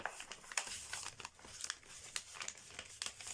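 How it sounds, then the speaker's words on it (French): Paper envelope being folded and sealed shut by hand, a run of soft crinkling and crumpling bursts at close range, fairly quiet and with no voices. "Fermer l'enveloppe"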